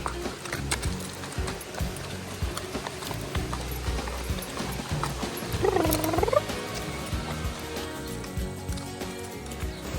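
Horse hooves clip-clop at an unhurried walking pace on a hollow bridge surface, with a short tonal call rising briefly around the middle.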